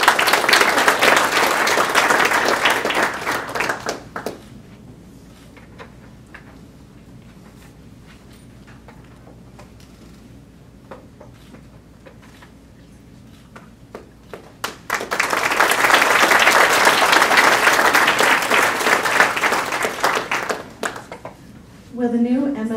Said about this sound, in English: Will the new MSBS class please stand for another round of applause?